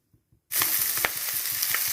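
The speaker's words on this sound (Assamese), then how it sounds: "এতিয়া মই ইয়াত মাংসখিনি দি দিম" After a quiet moment with a couple of faint taps, chicken meat hits a fully heated karahi and erupts into a loud, close, sustained sizzle with crackling pops.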